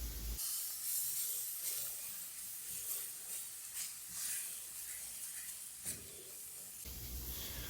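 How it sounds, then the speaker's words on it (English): Garlic, red pepper flakes and nutmeg sauté in a hot pan with a steady, close hiss and sizzle that holds evenly throughout, no voices over it. "we're going to saute this just until it's fragrant"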